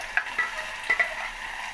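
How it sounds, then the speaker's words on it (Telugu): Tomato juice goes into onions frying in a pan, producing a brief close sizzle with a few sharp scraping stirs, heard alone without speech. "ఇప్పుడు టమాటా జ్యూస్ వేస్తున్నానండి"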